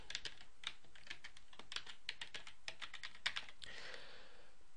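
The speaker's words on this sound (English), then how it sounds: "Now I enter my user ID and password again" Keys clatter on a computer keyboard as a user ID and password are typed into an SAP CRM login page in a browser, a steady run of close, crisp keystrokes with no talk.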